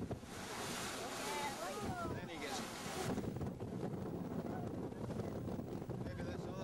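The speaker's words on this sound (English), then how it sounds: "It was kind of windy sitting out on the veranda watching the surfers" Gusty wind buffets the microphone on a veranda in Barbados over the steady wash of ocean surf, loud and rushing, with faint voices mixed in.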